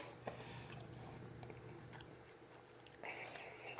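Close, quiet chewing and crunching on a bite of Red Baron supreme pizza with onion and olive, a steady soft mastication with a few crisp crunches, no talk.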